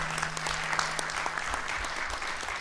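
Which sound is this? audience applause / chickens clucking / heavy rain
audience applause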